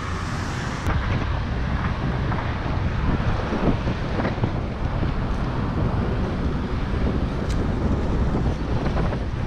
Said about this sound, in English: I'm pedaling into a stiff headwind